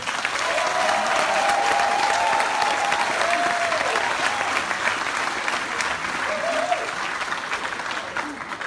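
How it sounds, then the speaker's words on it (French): Audience at an anti-CFA franc gathering applauds a professor, sustained dense clapping throughout, loud and steady, with a few voices and tonal calls rising above the crowd. "Applaudissez-le s'il vous plaît"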